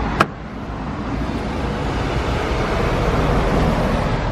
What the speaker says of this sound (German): Schon laut hier an der Straße.